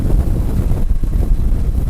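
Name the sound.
wind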